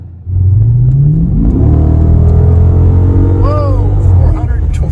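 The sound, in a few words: 2015 Dodge Challenger SRT 392 accelerating hard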